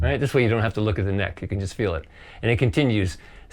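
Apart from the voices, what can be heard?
No everyday noises stand out.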